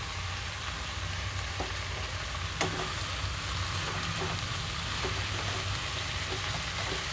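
Amaranth leaves and soaked chana dal sizzle in a hot pan for a curry, a steady soft frying hiss with a few faint clinks and stirring taps, no voices.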